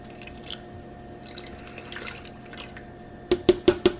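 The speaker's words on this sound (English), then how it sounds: "So now I'm just gonna pour." Liquid is poured into a crockpot, a faint trickle in a quiet kitchen followed by four distinct, evenly spaced drips near the end.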